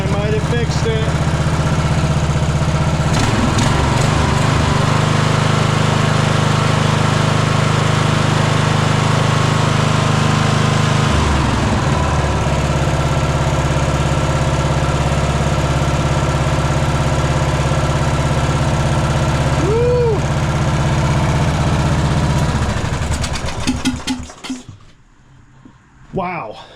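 Engine of a 1998 Craftsman LT1000 lawn mower running after a Walbro carburetor swap, a loud steady idle drone for over twenty seconds that fades out near the end, with talking over it.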